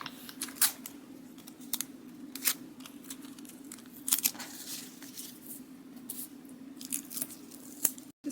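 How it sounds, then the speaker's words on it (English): A strip of tape being pulled and pressed down while building a model, giving a run of crisp crackles and sharp clicks over a steady low hum, close by. "Let's put a piece of tape on this."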